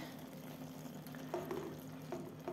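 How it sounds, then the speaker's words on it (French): A spoon stirs a dish in a pan with juices at the bottom, giving soft wet scraping and gentle sizzling at low volume, with a few brief louder strokes. "Voilà, je vais encore remuer."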